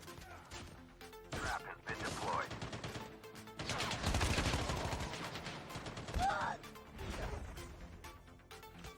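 Rapid bursts of hip-fired gunfire in Call of Duty Mobile crack out in several loud volleys separated by brief pauses, with sharp impact and mechanical clatter mixed in.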